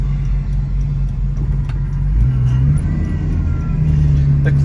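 Interior drone of a 1966 Ford Mustang with an inline six and a T5 manual gearbox swap under way, a loud steady low rumble with a pitch shift partway through, no speech.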